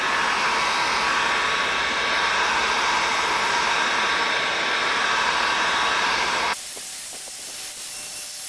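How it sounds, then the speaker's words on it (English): A heat gun blows steadily while melting wax into the pores of fabric, a loud, close, continuous hissing roar that drops to a softer hiss near the end, with no voices. "then I'm going to use the heat gun and try and get the flow"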